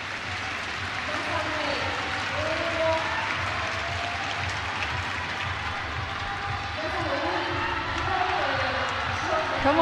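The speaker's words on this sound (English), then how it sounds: "Now she gets the crowd fired up." Crowd at a climbing competition clapping and cheering for a climber, a steady wash of applause and voices throughout, with commentators talking over it.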